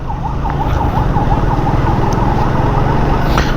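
An ambulance siren wails loudly and steadily in its rapid up-and-down pattern amid road traffic, with engine and road rumble underneath throughout.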